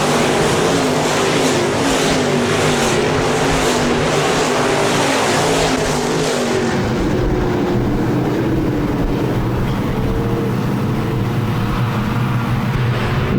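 Stock cars race at Park Jefferson Speedway, running two and three wide in the pack and making a loud, continuous engine roar that rises and falls as cars pass close by.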